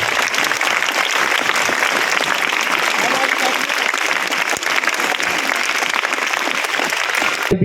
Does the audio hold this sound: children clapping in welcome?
yes